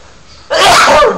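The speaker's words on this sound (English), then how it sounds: "2 seconds, I'm going to sneeze." One loud, close sneeze bursts out after a moment of quiet and trails off within about half a second.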